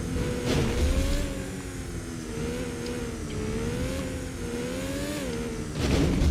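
A Porsche engine races in Need for Speed: Porsche 2000 on the PlayStation, a loud continuous drone whose pitch wavers and climbs with shifts in speed. It is steady and close throughout, with no talking.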